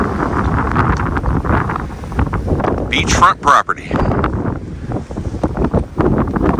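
Wind gusts rumble across the microphone outside by a frozen lake in a winter storm while a person speaks briefly over the blustery noise.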